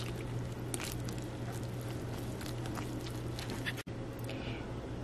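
Cod fish fritter batter stirred with water in a bowl, a steady soft wet squishing and patter running throughout at low level, with a brief dropout near the end and a constant low hum underneath.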